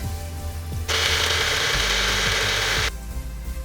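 A blender blending chopped raw mango, ginger, green chili and water whirs loudly in a steady burst of about two seconds, starting abruptly and cutting off sharply, with quieter clatter before and after.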